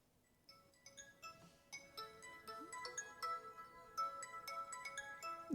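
A phone ringtone chimes repeatedly in a melodic pattern, moderately loud in a room, with faint clinks and murmured voices beneath.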